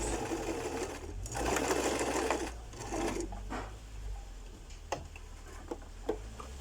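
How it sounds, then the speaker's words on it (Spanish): A sewing machine stitches a bodice seam for an empire-waist blouse, running in a steady loud whirring burst that slows into lighter ticking and a few isolated clicks near the end. "Doblamos sobre la línea media y cosemos sobre la otra línea que hicimos."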